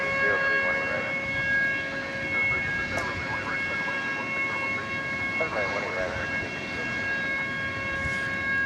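A steady, droning siren-like tone hangs over DFW Airport at night, sustained and fairly faint against a constant background rumble, with faint voices now and then.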